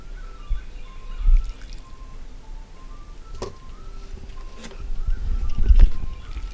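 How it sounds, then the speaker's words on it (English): Water is poured over catfish bait mixed with grape Kool-Aid, a close, fairly loud trickling and splashing that swells toward the end, with faint background tones and no talk. "we're going to pour a little bit of water over"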